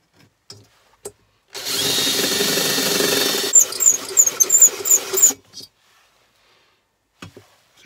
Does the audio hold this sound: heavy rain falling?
no